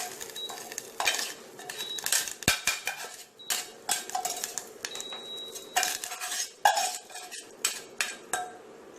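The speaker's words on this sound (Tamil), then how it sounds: "இப்போ நல்லா வறுபட்டுட்டு இது நம்ம ரைஸோட சேர்த்து கிளறிடலாம்" Repeated scraping and clinking of a utensil against a metal pan while stirring grated coconut into rice, irregular strokes close up, with no voices.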